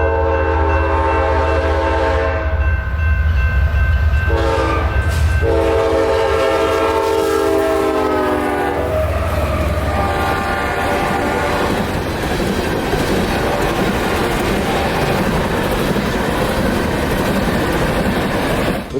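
Horn of a BNSF ES44 locomotive leading a northbound coal train at night in Crowley, Texas: a loud multi-tone chord blasts in several long sustained bursts, then gives way to rumbling rail noise and wagon clatter as the train rolls past.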